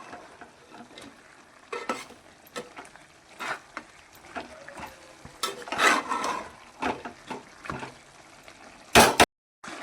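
Chicken and spinach cook in their own released juices in a pan with no water added. A spatula stirs them with scattered soft scrapes and wet shuffling over a faint simmer, ending in a sharp, loud clatter.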